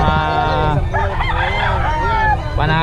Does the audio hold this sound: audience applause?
no